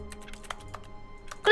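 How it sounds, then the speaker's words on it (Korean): Keyboard typing from The Stanley Parable: Ultra Deluxe, a few sparse, soft keystroke clicks spaced through the moment, then a louder, quicker cluster of keystrokes at the very end. "클릭하는데 왜 키보드 두드리는 소리가 날까?"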